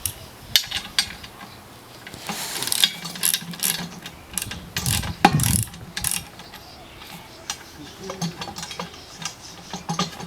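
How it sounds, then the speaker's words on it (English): Metal ratcheting and clanking as the support bolt of a dolly wheel is undone with a tool, a series of close, sharp mechanical clicks and knocks in uneven bursts. "you need to undo the support bolt for the dolly wheel"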